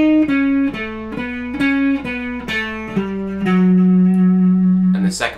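A slow, distorted electric guitar plays a melodic minor lick with chromatic passing tones, single notes plucked one at a time and held, stepping downward before a final long sustained low note.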